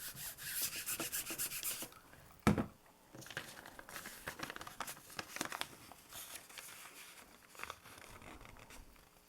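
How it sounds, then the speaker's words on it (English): Fluid acrylic paint being rubbed across a surface by hand, giving irregular dry scrubbing and crinkling strokes in bursts with a sharp knock partway through, close and fairly quiet without talking. "it's just a question of making sure you've rubbed enough"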